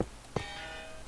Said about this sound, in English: It's just an anvil landing twice.